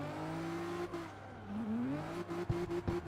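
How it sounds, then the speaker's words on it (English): A car with an RB26 engine revving, a faint, steady engine tone that rises and dips in pitch, with short sharp bursts near the end. "RB26 does sound glorious"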